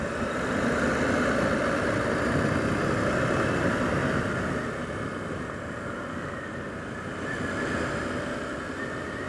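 A 2023 KTM 890 Adventure motorcycle engine runs with a steady, moderately loud rumble, its pitch easing slightly midway, with no talking.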